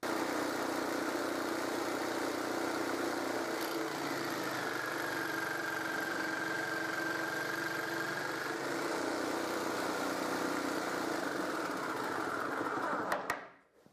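A power tool cuts through wood at a faster feed, a steady loud motor whine running continuously for about thirteen seconds before cutting off abruptly at the end.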